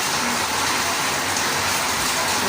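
Rain pours outside a house in a constant dense hiss with a low rumbling undertone and no voices.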